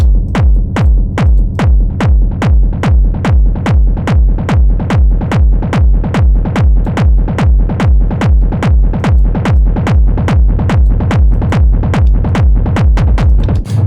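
A heavy bass rumble, overdriven into reverb and an amp, chopped into rapid, even sixteenth-note pulses, loud and steady throughout with a washy reverb tail.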